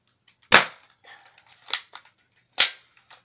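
Three sharp airsoft gun shots, each a loud close snap with a brief rattling tail, spaced about a second apart, with faint mechanical clicks between them.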